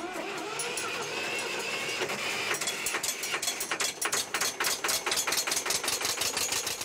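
An old Hanomag tractor engine starts up and settles into a steady rhythmic chug, its regular thumps growing more distinct as it runs, heard alone without talk.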